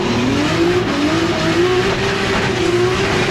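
BMW E30 drift car at a French drift event, engine held at steady high revs with a continuous tire squeal running through, loud and close without a break.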